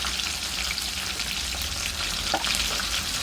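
Snapper frying in a pan while olive oil heats in a medium pot, a steady dense sizzle and crackle throughout with no talking.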